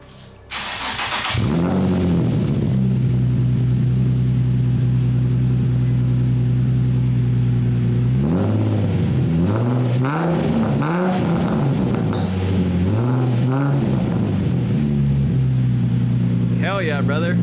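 A Nissan 350Z engine with a new titanium exhaust cranks and starts loudly, settles into a deep rumbling idle, then revs up sharply several times with a throaty exhaust before dropping back.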